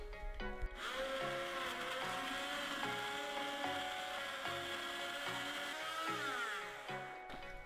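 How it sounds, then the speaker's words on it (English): A hand blender whizzes through thick chicken and vegetable soup with rosemary, its motor running in a steady whine that shifts pitch as it works through the mixture, then winds down at the end. "I'm just going to whiz it."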